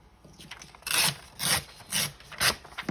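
Paper envelope being trimmed on a desk: a series of five rhythmic rasping, scraping strokes about half a second apart, close and fairly loud with no talking.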